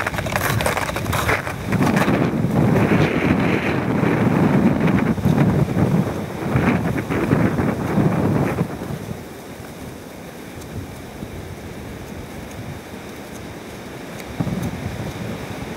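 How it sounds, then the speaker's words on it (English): Loud gusts of wind on a snowy hilltop in Gatineau Park roar and buffet the microphone for several seconds, then drop to a quieter steady whoosh before a final brief gust. "Very clear, very windy."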